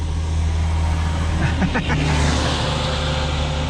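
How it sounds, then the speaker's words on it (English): A dump truck speeds past on a road, its engine roar and tire noise swelling as it nears and then passing with a brief whoosh over steady traffic background; a voice speaks faintly at points. "He's flying in that truck. Mind you, if I had a dump truck, I'd be driving it like that too."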